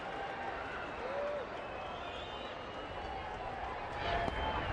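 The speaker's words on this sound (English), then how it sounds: "Here comes the crowd." Large baseball stadium crowd of over 34,000 at a Texas at Detroit game, a steady roar of murmur and cheering that swells slightly near the end, with a play-by-play announcer's voice running over it.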